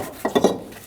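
Bolts come out of a transmission mount on a Volkswagen Passat with a few quick metallic clinks and rattles, three short taps in under a second, close and fairly quiet.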